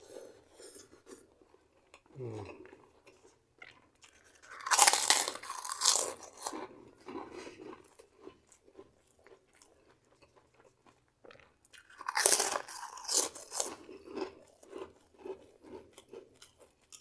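Crunchy green chilies being bitten and chewed, two distinct crunching bursts separated by quieter chewing and faint clinks of cutlery.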